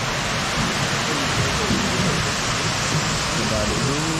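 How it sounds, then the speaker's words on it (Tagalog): The waterfall at Shifen, Taiwan, a steady loud broadband rush of falling water that fills the whole scene, with faint voices murmuring underneath. "Ayan yung waterfall nila."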